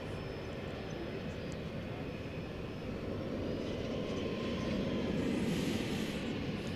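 An Air Canada airliner approaching DFW Airport from the northeast, a steady broadband jet roar that slowly swells louder as it nears, heard alone without talk.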